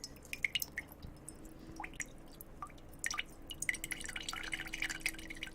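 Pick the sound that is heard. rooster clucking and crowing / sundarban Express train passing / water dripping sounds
water dripping sounds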